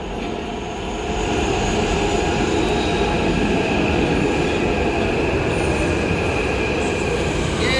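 A Hyderabad metro train pulls into the station bound for Miyapur, a loud, steady rumble of wheels with high squealing that swells after the first second and keeps going close by without speech.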